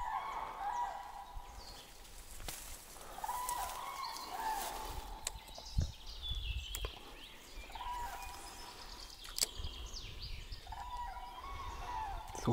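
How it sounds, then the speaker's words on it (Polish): Birds calling outdoors beside a small river in spring, repeated faint calls spread across the scene over a low, soft background, with no talking. "Ptaszki ćwierkają."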